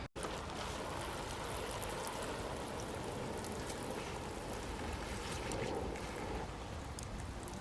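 A steady, continuous spray of water pours over peas, beans and other plants on an allotment plot, a dense hiss that runs unbroken for several seconds without any talking.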